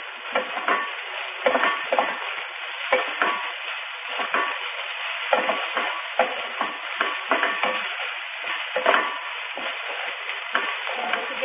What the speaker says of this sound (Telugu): చింతచిగురు వేసి మగ్గనివ్వాలి.